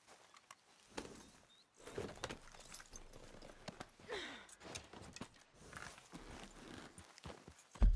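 Horse hooves clip-clop along a trail in the Wild West video game Red Dead Redemption 2, a faint, uneven walking rhythm with soft ambient outdoor sounds in the background.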